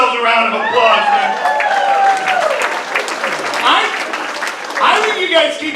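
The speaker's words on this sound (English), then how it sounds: "Give yourselves a round of applause" Audience applause at a comedy set, a steady, loud wash of clapping with cheering and crowd voices that holds throughout and swells again near the end.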